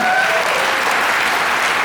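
Audience applause at an Amway business seminar in India: a dense, steady wash of many hands clapping at full loudness throughout, with no voices over it.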